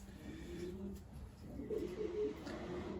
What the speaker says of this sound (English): Here's Graham's beautiful bird